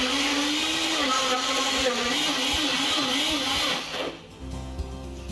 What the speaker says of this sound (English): We're just going to blend that up.